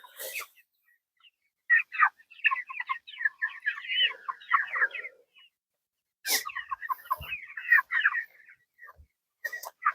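Broiler chickens clucking and squawking in bursts as they are moved along in a chicken tractor, two busy spells of calls separated by a short lull, fairly close and with no talking.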